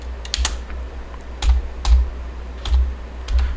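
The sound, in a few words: typing code on a computer keyboard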